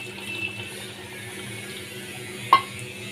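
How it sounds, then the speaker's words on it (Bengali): Water being poured into a pan for a bhola fish curry, a soft steady trickle under a low background hum, with one brief sharp clink near the end. "এখানে আমি 1 বাটি জল দিয়ে দিচ্ছি।"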